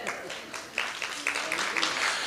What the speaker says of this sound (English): your applause can be real loud